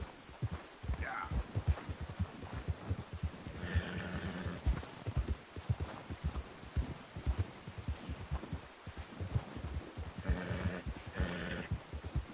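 Rhythmic horse hoofbeats clip-clop steadily under a low rumbling bed in the video game Red Dead Redemption 2, with a few brief voices or calls over the top.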